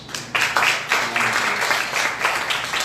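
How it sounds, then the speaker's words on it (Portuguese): Steady applause from a group, a dense wash of clapping that swells in bursts and carries on throughout. "Aplaudimos ao Senhor Jesus."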